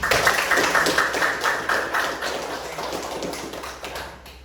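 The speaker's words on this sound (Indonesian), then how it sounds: "berikan tepuk tangan untuk kita semua dulu" Classroom audience applauding together during an Islamic religious education teaching session, a dense burst of many hands clapping that fades slightly toward the end.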